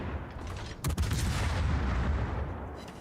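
Warship guns firing HE shells in World of Warships, one sharp booming salvo near the start followed by a long rumbling roar and steady low background.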